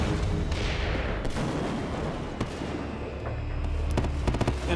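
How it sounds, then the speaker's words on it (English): Fireworks exploding inside a burning fireworks factory storage warehouse, a dense rapid chain of crackling bursts and sharp bangs over a continuous roaring rumble, heard loud and close. "In a spectacular chain reaction, firework after firework shoot through the building's burnt roof and light up the sky."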